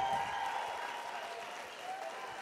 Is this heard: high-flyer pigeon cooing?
no